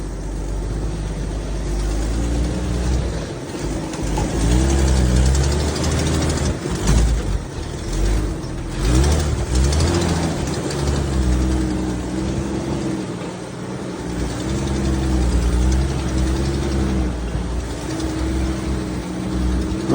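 A Jeep grinding up a rough mountain trail in low first gear, its engine a steady close drone that swells and labors over obstacles, with creaks and knocks from the chassis and no talk.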